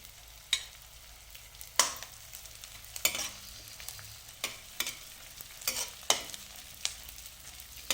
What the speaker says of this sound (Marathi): आता आपण मध्यम गॅसवर थोडा थोडा डिंक याच्यामध्ये टाकून तळून घेणार आहोत